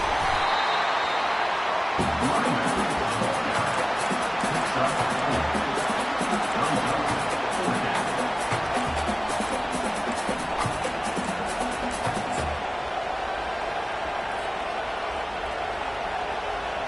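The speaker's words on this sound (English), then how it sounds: "This crowd bringing the energy and noise" A college football stadium crowd roars steadily, a dense wall of noise that holds throughout, with a commentator's voice faintly underneath.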